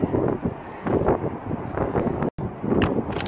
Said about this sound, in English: Oh, it's real windy.